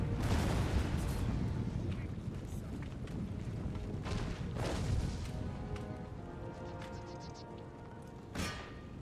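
Cannon fire in Empire: Total War, a dense barrage of deep booming blasts rolling together into a continuous heavy rumble, with a later sharper report standing out near the end.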